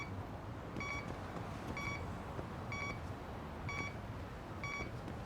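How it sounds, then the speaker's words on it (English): A tracker device in the Lost Judgment video game beeps five times at an even pace of about one per second, each a short bright electronic tone over a faint hissing background. "I can't tell if it's beeping closer."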